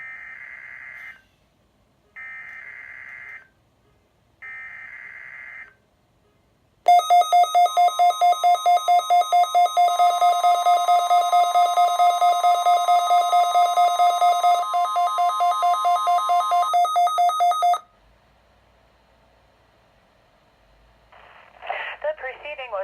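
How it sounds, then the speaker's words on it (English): National Weather Service weekly test broadcast: three short data bursts, then a loud, steady warbling alarm tone held for about eleven seconds before cutting off, followed by quiet and another short data burst. "The preceding was a test of the National Weather Service alarm tone."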